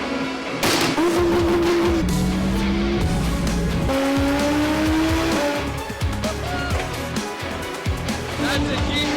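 A Nissan GTR revs hard with rising engine tones and tire squeal, loud and close throughout, with people talking over it.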